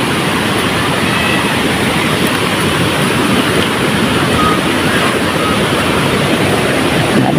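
A fast, strong river rushes in a loud continuous broadband roar near a camping ground where children play in the water, their voices lost under the torrent.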